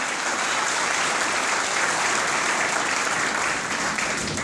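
Sustained applause from an audience of parents at a high school event, steady and dense throughout with no pauses, filling the room without speech.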